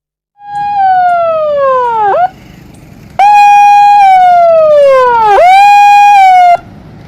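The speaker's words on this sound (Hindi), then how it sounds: "सायरन बज रहा है" A loud flood warning siren wails nearby at a river, rising and then sliding down in long sweeps, cutting off briefly before starting up again.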